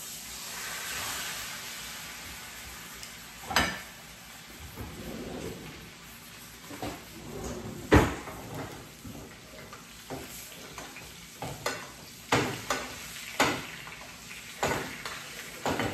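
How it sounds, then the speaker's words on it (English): Ribeye steaks basting in butter with garlic, thyme and rosemary beside a Kudu grill outdoors, a steady soft sizzle and crackle broken by scattered louder pops and spoon clanks, close and with no voices. "I've got some butter here in a pan, some garlic, some thyme, and some rosemary, and we are going to baste these ribeyes"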